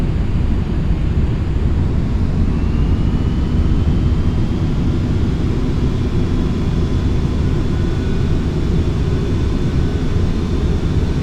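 Steady, loud roar of Boeing 747 engines held at full power during a flaps-10 stall test in the flight simulator FSX, a dense unbroken drone with a faint rising whine and no talk.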